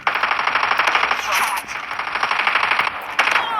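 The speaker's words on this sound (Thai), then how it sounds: "ยิงยาวเลย โอ้โห กระสุนไม่หมดหรือไง" A long, unbroken burst of rapid automatic gunfire from a weapon in the mobile shooter game Call of Duty Mobile, loud and steady for several seconds with a brief break near the end before firing resumes.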